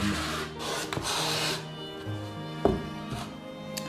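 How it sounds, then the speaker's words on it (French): Sandpaper rubs against the wooden ribs of a Stradivarius-model violin as they are sanded down near the head end, in close, raspy strokes broken by a few light knocks of the wood. "Il faut donc poncer du côté de la tête de l'instrument pour le mettre aux normes."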